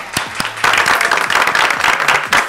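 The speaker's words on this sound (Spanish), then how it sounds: "Un aplauso, ¿quieren aplaudir?" Studio audience applause on a live Spanish-language talk show, a few claps quickly building into steady, loud, close clapping with voices faintly underneath.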